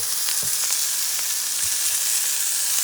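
Bison bacon sizzles in a cast iron pan, a dense hiss of frying fat with scattered pops and spits, steady and close for the whole stretch, with no voices.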